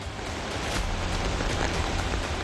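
Heavy, unrelenting rain falls on a flooded street in Kurla, Mumbai, a dense, even hiss of water close by with no voices.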